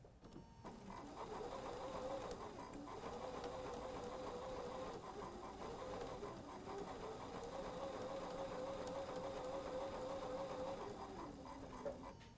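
A sewing machine stitches a fabric pillow gift block with a steady, close mechanical whir and rapid rhythmic needle chatter that runs almost without pause, slowing briefly a couple of times.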